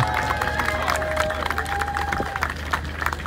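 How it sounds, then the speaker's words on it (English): A crowd outdoors at a Highland Games tractor pull applauds an athlete, scattered clapping and cheering over a low engine hum with a whistle-like tone and bits of talk. "So big round of applause here for Matt Jackson."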